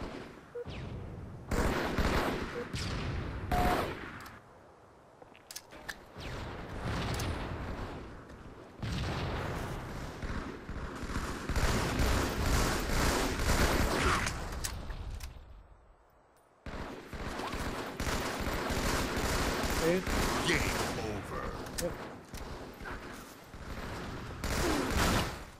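Video game gunfire in a 4v4 match on the Lockout map, long stretches of dense shooting and booming blasts with a few short quiet gaps, fairly loud and continuous throughout.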